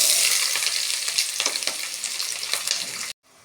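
Thinly sliced onions frying in hot oil for a home-cooked vegetable curry: a loud, crackling sizzle with scraping stirs. The sizzle fades slightly, then cuts off abruptly near the end, and no one speaks.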